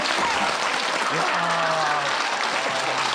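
Studio audience applause on a Korean talk show, a dense continuous clapping that fills the clip while a voice speaks over it.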